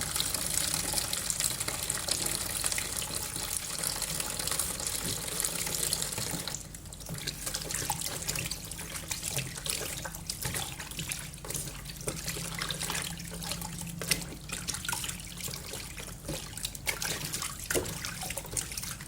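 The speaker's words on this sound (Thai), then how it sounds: "ล้างกับน้ำเกลือนะคะ" Tap water runs steadily into a sink as food is rinsed in salt water, a continuous splashing stream with shifting trickles and occasional small knocks.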